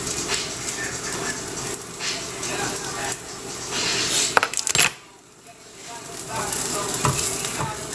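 Onions frying in a pan for a copycat Red Robin veggie burger give a steady close sizzle and hiss, broken by scraping stirs and clinks as they are scooped aside, with a voice talking over it.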